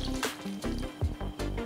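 Two cups of water poured into a cooking pot of okra for a one-pot vegan dish, heard as a string of close splashing, dripping pulses about every fifth of a second, with no voices.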